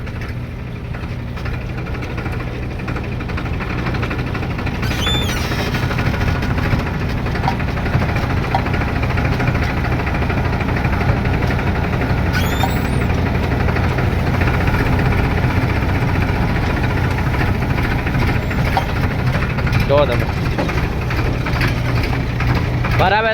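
A thresher runs at night during groundnut threshing, a loud, steady mechanical drone with a low engine rumble and occasional clatter, and voices are heard at times over the machine.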